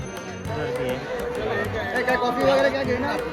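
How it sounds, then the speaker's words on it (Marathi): Dense crowd at the Anganewadi temple fair at 4 am, a steady murmur of many voices and shuffling movement, fairly close and continuous with no single voice standing out. "वाजल्याच बरोबर चार तरी एवढी सारी गर्दी आहे बघा"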